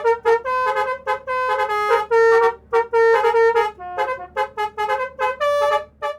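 Musical telolet horns on intercity buses gathered at a bus enthusiasts' meet play loud, close melodic tooting phrases that overlap and answer one another in rapid bursts.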